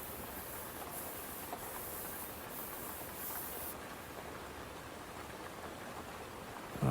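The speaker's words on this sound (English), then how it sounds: "I didn't know it'd be raining tonight." Soft, constant rain falls at night in an even, quiet wash of patter with no breaks and no voices.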